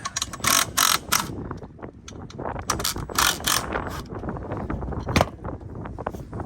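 A ratchet tightens a bolt on a roof rack extension for a four-door 2021-23 Ford Bronco, giving rapid repeated clicking strokes up close with some clanking between them.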